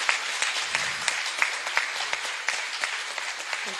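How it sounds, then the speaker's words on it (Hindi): A panel discussion audience applauds steadily after a doctor presents a case, with dense, sustained clapping and scattered sharper individual claps standing out throughout. "एक राउंड ऑफ अप्लॉज बहुत अच्छी वाली तालियों का बनता है"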